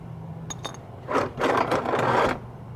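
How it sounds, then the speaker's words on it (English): A ratchet with a 17mm socket turns a scooter's oil drain plug, giving a few light metallic clicks followed by about a second of close, gritty ratcheting. "You need a 17mm socket to open the oil drain plug."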